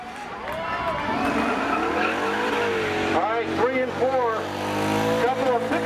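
Pickup trucks drag racing at Seekonk Speedway during a Memorial Day thrill show, engines roaring loudly and continuously with rising and falling revs and squealing tires, close and dominant throughout.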